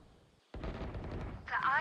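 A loud burst of gunfire from a weapon in Valorant, breaking in suddenly after a quiet moment and carrying on in rapid shots, with a bright metallic ringing near the end.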